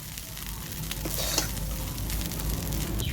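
Flattened rice (chire) pulao gently stirred and sizzling in a pan, a steady close frying hiss with soft scraping strokes throughout and no voices.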